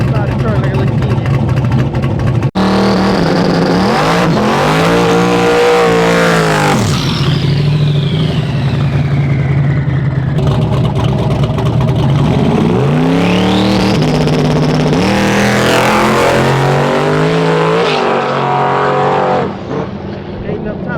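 No-prep drag race car accelerating hard down the track on a high-power pass, its loud engine roaring and rising in pitch through gear changes, with people talking excitedly over the sustained engine noise throughout.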